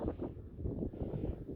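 Gusty wind on the open tundra in Yakutia buffets the microphone in a steady low roar, rough and unbroken, with no voices.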